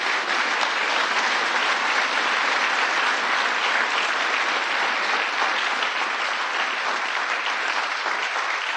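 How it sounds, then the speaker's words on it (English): A large audience at the Jan. 6 anniversary ceremony gives steady, dense applause for the Presidential Citizens Medal recipients, a loud continuous wash of clapping with no talk over it. "I want you to give one round of applause again for today's recipients of the Presidential Citizens Medal"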